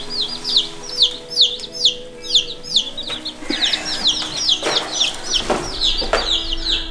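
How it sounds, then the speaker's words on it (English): Delaware chicks peep in a steady run of high, rising chirps, several birds close by calling over one another with brief rustling and a few soft thumps. "These are the Delawares."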